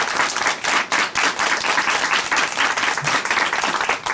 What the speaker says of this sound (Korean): 한옥기 자매님께 다시 한번 큰 박수 보내드릴게요.